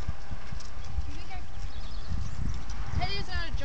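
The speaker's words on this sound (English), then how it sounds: "Gracie on her new horse, Magic." Hooves of a horse ridden in a jumping session, a steady clip-clop under an arena's background murmur, with people talking and calling out nearby.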